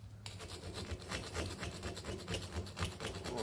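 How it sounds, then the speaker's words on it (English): Carbon deposits scraped off the valves of a VW Type 1 engine, a quick repetitive rough rasping in short strokes, close and steady. "Let's do it a little harder on the valves actually. Get that carbon off."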